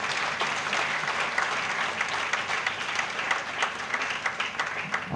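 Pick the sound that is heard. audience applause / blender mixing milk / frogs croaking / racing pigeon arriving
audience applause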